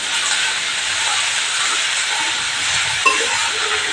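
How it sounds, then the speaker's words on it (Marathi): Spinach being stir-fried in a pan gives off a continuous, fairly loud sizzling hiss, with a single small click about three seconds in. "ही भाजी आपण जरा व्यवस्थित अशी परतून घेणार आहोत"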